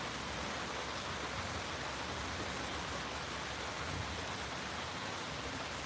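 Steady rain pours outside near a chicken coop during the remnants of Hurricane Ida, a constant dense hiss with no pauses, moderately loud and alone.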